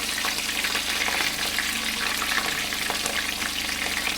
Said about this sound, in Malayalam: എണ്ണ ചൂടാകുമ്പോഴത്തേക്കിന് ഞാൻ വെളുത്തുള്ളി അരിഞ്ഞ് വെച്ചേക്കുന്നത് അങ്ങോട്ട് ഇട്ട് കൊടുക്കുകയാണ്